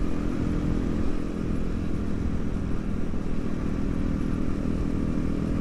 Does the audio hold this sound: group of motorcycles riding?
yes